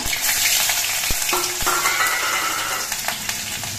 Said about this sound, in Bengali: এবার বেশ কিছু উপকরণ আমি এই তেলের মধ্যে দিয়ে ভেজে নেব।